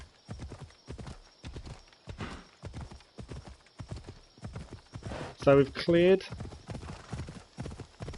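Horse hooves clip-clop steadily in a regular rhythm while riding in Assassin's Creed Odyssey, with a brief whinny near the end, all under continuous talking from a live-streaming player.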